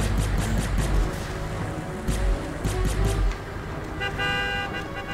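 Car horn honking in the video game Destroy All Humans, with a few short toots over a rumbling engine and road noise, followed by a longer steady honk near the end.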